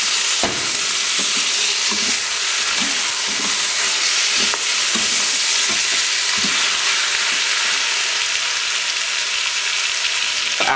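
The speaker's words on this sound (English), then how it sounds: "After I brown the beef," Ground beef browning with garlic and onion in an Instant Pot IPDUO60 electric pressure cooker, a steady loud sizzle and fry with scattered scraping stir clicks throughout, no voices.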